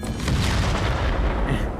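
Explosive knives going off in an indie action video game, a dense loud rumble of overlapping booms rolling continuously for a couple of seconds.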